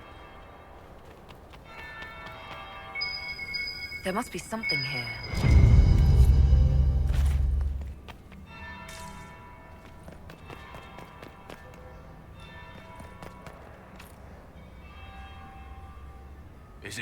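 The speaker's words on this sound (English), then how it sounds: "That's the bell." Bell ringing in the Dragon Age Inquisition video game, heavy resonant tolling that swells loudly midway amid running footsteps and game ambience, then fades back, with a character speaking briefly earlier.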